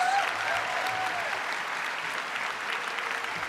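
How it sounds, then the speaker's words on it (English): Steady applause from a college convocation audience, a dense patter of clapping holding at moderate volume throughout. "give yourself a round of applause"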